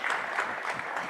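An audience at a Global Chess League finals event claps in dense, continuous applause, a bright and fairly loud patter with a faint crowd murmur and no speech.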